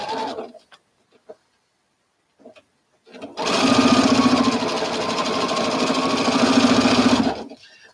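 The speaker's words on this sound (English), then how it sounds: "Let me sew these." A sewing machine stitches mandala quilt pieces together in one loud, steady, continuous run of about four seconds, preceded by a few faint handling clicks and near-silence.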